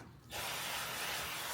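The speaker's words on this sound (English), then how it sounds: "Spraying down my casserole dish." Cooking spray hisses from an aerosol can onto a casserole dish, a steady close-up spray that starts abruptly and runs unbroken for over a second with no talking.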